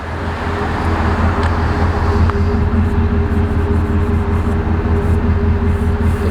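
Ford Raptor with a 6.2 V8 idling with a slight tick, a steady close low engine drone with faint rapid ticking on top, no talk.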